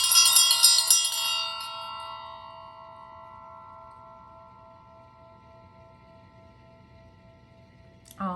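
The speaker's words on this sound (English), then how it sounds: "So I'm ringing the bell." A single bell rings out bright and loud, then its tone lingers and slowly fades over several seconds, ending with a faint knock.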